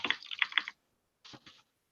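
Rapid keystrokes on a computer keyboard come in a quick burst of clicks, then a pause of near silence, then a few more taps, all close and clear.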